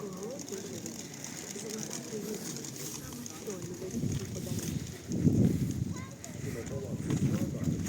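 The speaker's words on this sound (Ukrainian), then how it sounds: "голуби." Soft, low pigeon coos repeat in short bursts close by, over a steady outdoor background hum.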